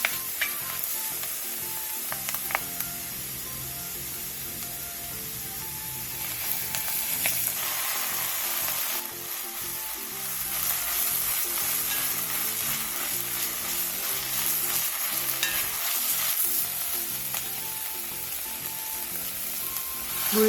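Soaked seaweed stir-fried with sesame oil and minced garlic over low heat: a continuous close sizzle with stirring and scraping for about twenty seconds, no voices.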